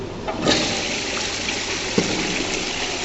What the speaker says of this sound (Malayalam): അതും നമുക്ക് എസ്കോഡ ഫ്ലഷ് ടാങ്കോട് കൂടിയാണ്.